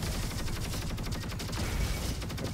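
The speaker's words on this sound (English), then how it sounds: "I always thought the Quasar SMG is not a good weapon." The Quasar SMG in the shooter game Roboquest fires in a continuous rapid stream of loud, dense automatic shots layered with game effects, unbroken for the whole stretch.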